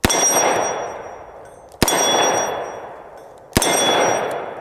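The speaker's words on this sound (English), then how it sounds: "Let's shoot that pin." A handgun fires three shots, each ringing off a metal pin target with a sharp clang that decays slowly, evenly spaced and loud with no talk.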